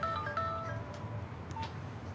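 A phone rings with an incoming call from an unknown number: a short run of faint, tinny tonal beeps at the start, then quiet room noise.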